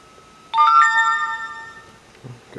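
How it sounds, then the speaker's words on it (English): An Android 4.0.4 tablet gives a notification chime: a bright, multi-tone electronic ding that rings out and slowly fades over about a second and a half above faint room noise. "Got a notification from a friend."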